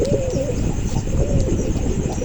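A pair of high-flying Pakistani pigeons coo loudly and close by, with soft repeated rolling coos and a few faint chirps, and no one speaking.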